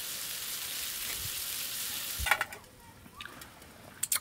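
Asparagus and tomato frying in a pan over raised heat at an outdoor campsite, a steady broadband sizzle for the first couple of seconds, then quieter crackles with a few sharp pan clinks and stirring knocks.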